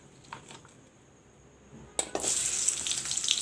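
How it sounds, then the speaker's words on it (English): Chopped onions drop into hot oil in a pan for egg bhurji: quiet kitchen sounds first, then a sudden loud burst of sizzling that settles into a steady, bright frying hiss. "Now I'll put in the onions. The oil is turned hot."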